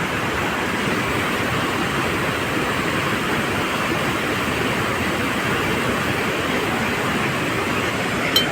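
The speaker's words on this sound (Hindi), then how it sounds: "इधर से ऐसे दिखाई दे रही है, ये छोटी नदी है ये।" A small Himalayan river rushes in a steady, broadband roar, continuous and close with no pauses or speech over it.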